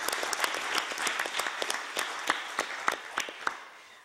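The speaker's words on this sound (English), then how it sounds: "May I invite you to give them a round of applause." Applause from a conference audience at a statistics committee session: scattered, distinct hand claps from a modest crowd in a hall, fading out toward the end.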